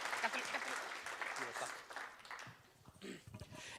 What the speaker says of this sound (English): one round of applause for this presentation